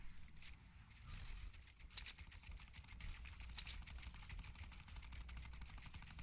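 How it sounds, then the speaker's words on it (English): A minigun fires in Fortnite as a long, rapid, evenly spaced stream of shots, faint and distant, with the burst running for over six seconds. "Sounds like a minigun, friends."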